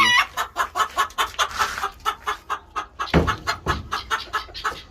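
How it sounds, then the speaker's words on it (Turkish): Ten young roosters on a farm cluck in a rapid, steady rhythm close by, with louder squawks and crowing breaking in around the middle of the clip. "4, 5, 6, 7, 8, 9, 10 tane ispencimiz de burada Hepsi gayet sağlıklı."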